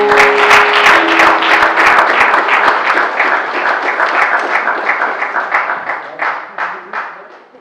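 A church congregation claps and applauds loudly together for several seconds. The applause trails off into scattered claps, with voices mixed in at the start.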